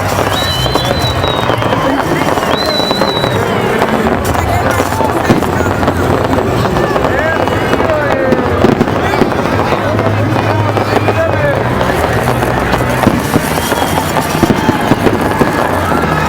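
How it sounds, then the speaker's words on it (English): Fireworks bursting over Las Vegas near Caesar's Palace, a dense, continuous barrage of booms and crackles from many launches around, with crowd noise and voices mixed in throughout. "Fireworks all around."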